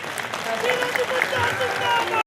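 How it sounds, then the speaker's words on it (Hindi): An audience at a free mass wedding and community gathering applauds a speaker with sustained, fairly loud clapping that swells slightly and cuts off abruptly at the end. "एक बार जोरदार उनके सम्मान में ताली"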